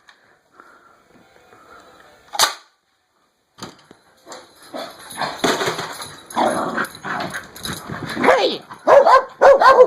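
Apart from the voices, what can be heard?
dogs barking at a noise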